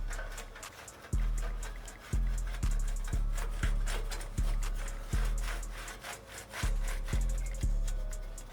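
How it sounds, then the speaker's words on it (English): A variable speed grinder with a polishing wheel buffs aluminum 18-wheeler truck steps at around 2200 RPM, giving a steady rubbing, rasping whir broken by about a dozen sharp, regularly spaced knocks as the wheel catches the surface. "we got the showstopper wheel with the variable speed grinder set at 2200 RPMs"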